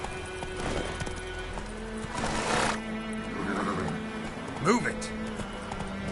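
Hooves of Roach, a horse galloping in The Witcher 3: Wild Hunt on PS4, pound along under game music and a voice, with a whinny near the end.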